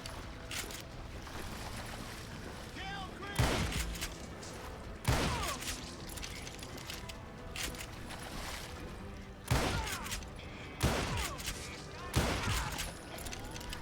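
Rifle gunfire in the Western shooter Call of Juarez Gunslinger lands as about five sharp, separate shots spread over several seconds over a continuous bed of game sound and a voice.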